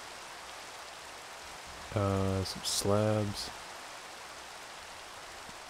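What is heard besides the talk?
rain falling in Minecraft video game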